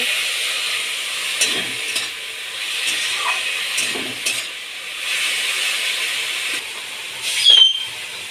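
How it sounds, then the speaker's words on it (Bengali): A mushroom mixture with turmeric, salt and sugar fries in a pan with a soft, steady sizzle and hiss, and a few light stirring scrapes and clinks come close by. "এর মধ্যে সামান্য পরিমাণে হলুদ গুঁড়ো স্বাদ মতো নুন আর অল্প পরিমাণে চিনি দিয়ে ভালো করে ভেজে নেব"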